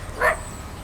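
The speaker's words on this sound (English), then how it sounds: "See dogs barking." A single short dog bark rings out at a park dog run on a day of inclement weather, brief and fairly faint over a low outdoor hum.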